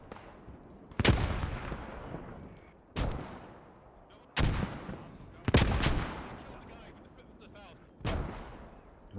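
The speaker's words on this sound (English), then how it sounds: "Here, rockets going off, machine guns and close quarter SMGs." Rockets and machine gun fire in the World War II shooter Post Scriptum, Market Garden battle: five heavy, echoing blasts roughly every one to two seconds, each trailing off into rumbling reverberation over a noisy battlefield background.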